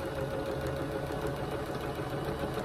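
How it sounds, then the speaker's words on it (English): A sewing machine runs a quarter inch seam down the long side of fabric triangles for half-square triangle quilt blocks, humming loudly and continuously throughout. "I'm going to take them to the sewing machine and I'm going to sew a quarter inch down this long side of the triangle"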